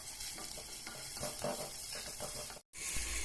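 Ginger-garlic paste and onions fry in a pan over medium flame, a steady close sizzle with soft stirring scrapes, cut by a brief moment of silence near the end.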